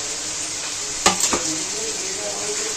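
Chopped tomato drops into spices frying in a pan for Bengali hotel-style chicken tarka, giving a brief close clatter and a sharp burst of sizzle over a constant frying hiss.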